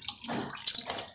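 Water splashes steadily from a tap or jug into a cooking pot for a vegetarian curry, a short continuous pour heard alone and close.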